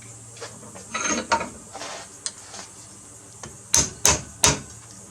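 A 9/16 socket taps a starter part into place during a starter rebuild, giving three sharp, close metallic knocks spaced about a third of a second apart near the end, after some softer handling clatter.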